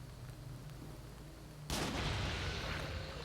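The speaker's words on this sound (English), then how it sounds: "I wish to kill him with a rifle." A single loud rifle shot in the Nioh 2 video game bursts in after a quiet stretch and is followed by a sustained rumbling echo.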